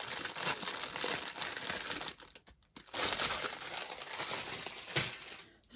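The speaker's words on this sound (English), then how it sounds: "Sorry about all the rustling." Paper crumpling and crinkling during fussy cutting for a journal page, loud and close, in dense bursts with a brief pause midway and no talk.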